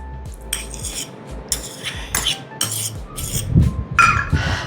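A spoon stirring cheesecake batter in a bowl, with repeated irregular scrapes and clinks of metal against the dish, close and moderately loud, with no talking.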